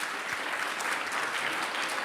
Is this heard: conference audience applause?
yes